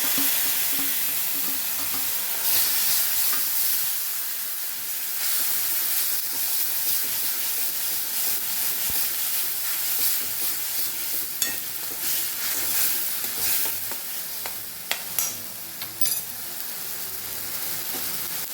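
Tomatoes added to sautéed garlic and onion sizzle and fry in a hot pan, a steady hiss with occasional scraping stirs and sharp crackles.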